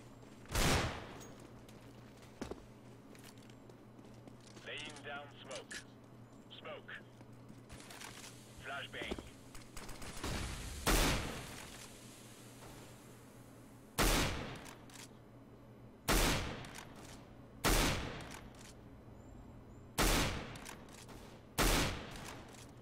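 Gunfire from the video game CS:GO: about seven sharp, loud shots spread across the span, one early, then several spaced bursts toward the end, over a faint steady background with some quieter clicks and movement sounds.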